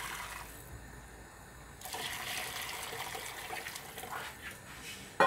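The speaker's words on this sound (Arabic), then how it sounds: "نزيد لهم الماء" Water pours steadily into a pot of meatball sauce, a broad continuous gushing rush that swells after a quiet start and runs on without pause.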